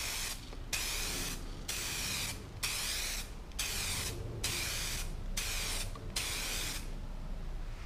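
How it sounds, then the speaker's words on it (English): Aerosol spray can laying a light first clear coat onto car headlights, eight short hissing bursts of about half a second each, separated by brief pauses, close and steady with no talk. "Okay, so our first coat, we're going to do a very light coat"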